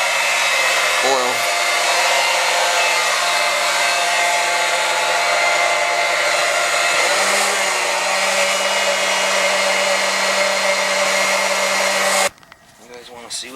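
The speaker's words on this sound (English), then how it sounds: "Pumping the oil out of this container through this pump, through this hose back into the top of the tank." A pump moves heating oil through a hose into the top of a 275-gallon oil tank with a steady, loud motor whine and hum. It runs unbroken for about twelve seconds, then cuts off abruptly, leaving brief low rustling.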